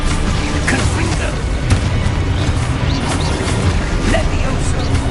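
Repeated Confringo spell blasts in the Hogwarts Legacy video game: a dense, continuous barrage of booming explosions and crackling bursts, loud and close throughout, with game voices under the noise.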